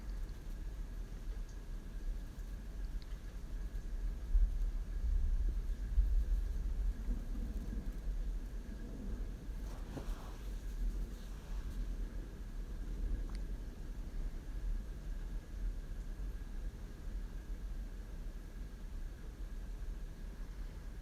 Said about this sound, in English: You may hear some thunder and rain in the background.